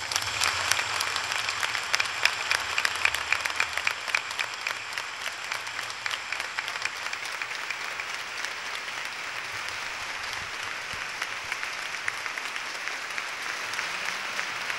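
An audience at a posthumous tribute to Rafael Alberti gives a standing ovation, steady dense clapping that holds loud and even for the whole stretch without pause.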